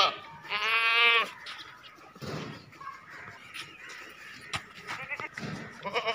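A castrated male goat at a livestock sale bleats loudly once in a long, strained call, then gives a shorter bleat a few seconds later amid faint background murmur and rustling.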